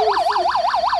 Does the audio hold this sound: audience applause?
no